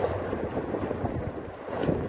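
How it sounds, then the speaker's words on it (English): Steady, rough wind buffets the microphone aboard a boat cruising America's Great Loop in choppy, spray-filled conditions, with no speech. "It's pretty windy"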